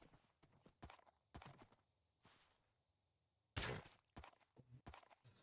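Horse hooves clip-clopping in a Minecraft modpack, with a series of irregular hollow hoof clops and a louder burst midway, faint and close, with no talk.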